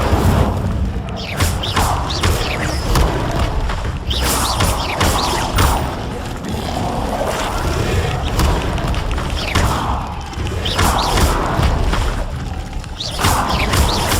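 Repeated Incendio fire spells are cast in a Hogwarts video game, each a loud whooshing boom or thud. The blasts burst out every second or two over a continuous rumbling game backdrop.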